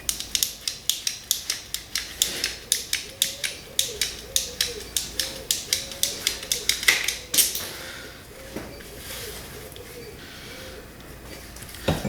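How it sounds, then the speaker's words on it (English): Long armoured cable is chopped into shorter lengths for scrap copper, with a rapid series of sharp rhythmic clicking cuts close by for about seven seconds, then a quieter scraping stretch and a few isolated snaps. "when you've got long cable, armoured cable, it's best to just cut it up into more manageable lengths"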